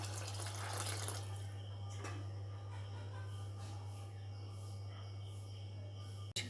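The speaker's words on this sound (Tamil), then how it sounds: "இந்த நேரத்தில் நம்ம கரைச்சி வச்சுருக்கிற புளி தண்ணியை சேர்த்துடலாம்." Tamarind water pours and splashes steadily into a pan of cooking curry, a continuous watery rush that softens over several seconds.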